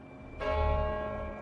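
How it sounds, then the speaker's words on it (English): Church bells of St. Paul's in London ring out, a single resonant bell strike with a long humming tail that swells in after a quiet moment and sustains alone. "In London, the bells of St. Paul's rang out"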